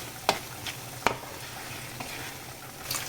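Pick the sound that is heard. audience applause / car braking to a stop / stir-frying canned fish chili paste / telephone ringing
stir-frying canned fish chili paste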